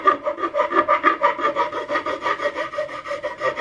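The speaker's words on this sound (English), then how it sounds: "So I'm just using that rat tail coming around" A rat tail file rasps across the wooden stock of a Hawken rifle kit near the lock, in steady back-and-forth strokes, about a dozen rhythmic scrapes, close and clear with no talking.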